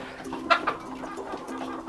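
Soft, scattered clucks from free-range hens in a poultry shed come through a quiet background, a few short calls spaced unevenly, not very loud.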